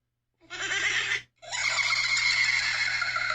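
A horse neighing sound effect gives two loud, close whinnies, a short squeal and then a longer, shrill neigh after a brief gap, with no voices present.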